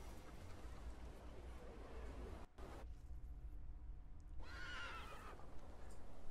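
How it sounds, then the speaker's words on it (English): Horse neighing with hoof clatter in the video game The Thaumaturge, set in Poland in 1905, heard against a steady ambient background with a brief gap partway through. "I meant to take the horse out for a ride"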